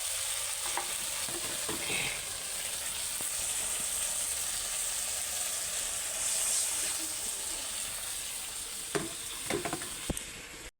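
Water poured into hot oil with turmeric-coated fish sets off a steady, loud frying sizzle and hiss that holds for the whole stretch, with a few sharp utensil clicks near the end.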